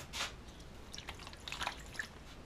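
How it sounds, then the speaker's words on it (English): Water is poured onto gold-bearing dirt in a pan beside a shaker table, heard as soft drips, splashes and wet squishes, faint and close, with no talk. "Pour some water onto this."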